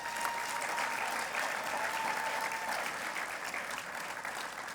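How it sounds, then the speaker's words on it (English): Gala crowd at a teaching and leadership awards ceremony gives sustained applause, a dense, even roar of clapping that holds steady at moderate volume before tapering slightly at the end. "Please give them a round of applause."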